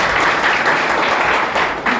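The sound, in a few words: audience applause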